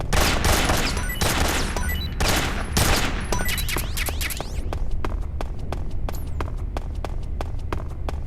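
Third-person shooting in Metal Gear Solid: Snake Eater 3D: loud rapid bursts of gunfire at first, then a steady series of sharp, evenly spaced single shots that ring out clearly over a low background rumble.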